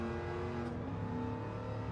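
Jaguar E-Type racing car in Gran Turismo 7, its engine holding a steady, loud mid-range drone with a continuous tone that barely varies, without any talk.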